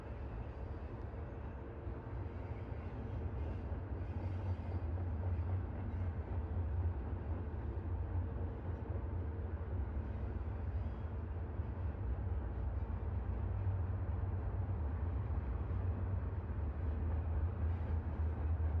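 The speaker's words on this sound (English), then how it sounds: "if you like the train noises in the background of my stream" Steady rumbling of trains as continuous background noise in a livestream, a loud, unbroken low drone lasting throughout with no pauses or speech.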